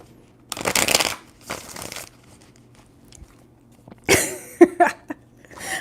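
Tarot cards being shuffled in a few short, crisp riffling bursts, each with papery crackle and slaps of the deck, separated by brief quiet pauses.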